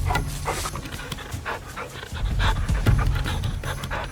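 African wild dogs in the Kalahari pant with steady, rapid breaths, close and moderately loud, continuing throughout with no voices.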